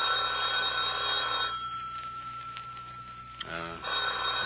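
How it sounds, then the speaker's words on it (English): An old-fashioned telephone bell rings in a steady rattling trill, pauses for about two seconds, then starts ringing again, loud and close. "The phone's ringing."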